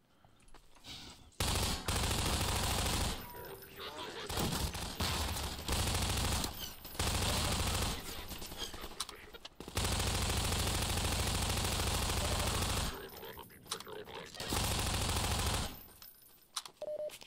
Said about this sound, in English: they are shooting me a whole bunch